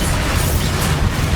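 A fiery Confringo spell blast from Hogwarts Legacy, a dense continuous roar of booming explosive noise filling the whole moment, loud and close with no clear pauses.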